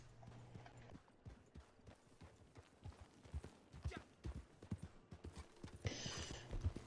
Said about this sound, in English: Now I gotta brush off my horse.